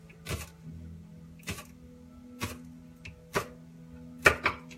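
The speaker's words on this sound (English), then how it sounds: "So I'll roughly chop the scallions." A knife roughly chopping scallions on a cutting board, six sharp thuds at an uneven, unhurried pace, close up over a low steady hum.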